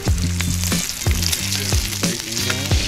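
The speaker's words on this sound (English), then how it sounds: "Hot sizzle pancake." Pancake and bacon frying in a pan at a Mississippi River campsite: a steady, close, loud sizzle broken by repeated scraping and stirring clicks from a utensil, with no talking.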